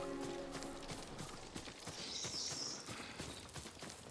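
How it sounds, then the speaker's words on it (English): Horses gallop in the video game Ghost of Tsushima, a steady clip-clop of hooves drumming fairly close with a brief whinny mixed in, heard on its own without talk. "You hear that? Horses!"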